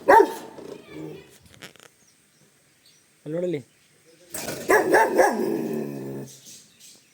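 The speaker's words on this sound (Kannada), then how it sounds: "ಹೆಂಗೆ ಬೊಗಳ್ತ ನೋಡಿ" A village dog barks sharply and close, a few scattered barks and a growl-like yelp spread across the stretch, while people talk nearby between the barks.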